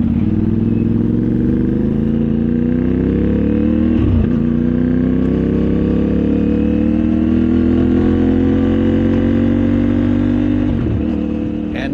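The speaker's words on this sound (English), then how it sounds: "how good it sounds, especially with this IXL pipe on the back" A CFMoto 450MT adventure motorcycle's 450 parallel-twin with a 270-degree crank and an IXL exhaust idles and revs close up, a loud, steady, throbbing engine note with two brief throttle blips, no voices.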